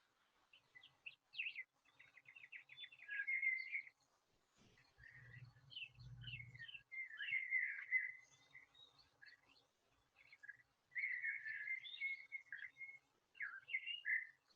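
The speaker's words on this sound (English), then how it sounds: "If you listen outside, the animal you're most likely to hear are songbirds." Several songbirds sing bright, warbling phrases in bursts, fairly close and clear, with a brief low rumble partway through.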